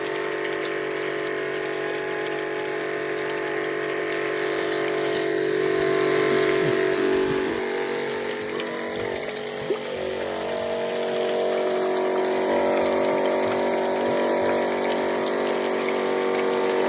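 Twin electric water pump motors run for a drip fertigation setup on a farm, producing a steady, loud hum and whine with rushing water, continuous and close.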